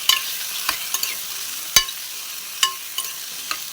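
Tomatoes and onions frying in a pan are stirred with a utensil, producing scattered scraping clinks over a soft, steady sizzle, close and without speech.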